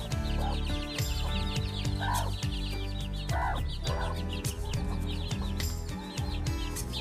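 Young Karinkozhi (Kadaknath) chicks cluck and peep repeatedly at close range, with short calls scattered over a steady farmyard background.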